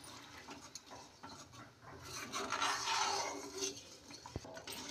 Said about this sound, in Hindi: इसको हम अच्छे चलाते रहेंगे